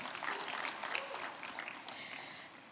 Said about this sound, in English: Clap hands for yourself, please.